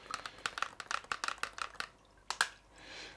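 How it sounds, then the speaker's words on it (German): A spoon stirs a mineral mixture for an aquarium with quick, light clinking taps against a container, a rapid run of strokes followed by a couple of louder knocks, close and fairly quiet. "Ich rühre das jetzt nochmal kurz um, dass wir dann auch wirklich alles reinkriegen"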